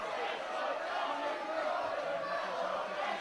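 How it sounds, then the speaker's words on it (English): Split crowd roaring steadily inside an arena at a UK wrestling show, a dense, continuous wash of cheering and shouting with no clear pauses. "you can hear the energy in this building right now, a very split crowd"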